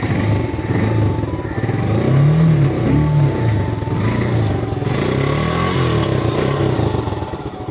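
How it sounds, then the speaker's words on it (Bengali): A motorcycle engine with a freshly replaced air filter runs steadily and close by, its throttle blipped so the low drone rises and falls in pitch through the middle before settling back to a continuous hum. "যখন আমি বাইক স্টার্ট করার পর থ্রোটল প্রেস করি"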